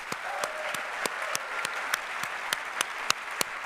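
A dinner audience gives another round of applause for a 31-1 women's basketball team, sparse, evenly spaced individual claps standing out over a soft bed of clapping, moderately near.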